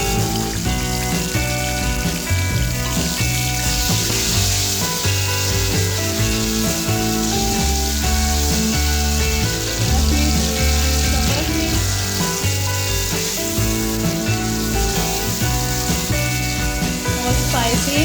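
Tomatoes going into light-brown fried onions in a pan, a steady loud sizzle with stirring scrapes throughout, heard alone without talking.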